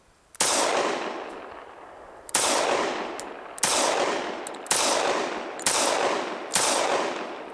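Six loud, sharp gunshots from a handgun with a manual safety, fired at a fedora, each crack followed by a long decaying echo, spaced one to two seconds apart with no talking.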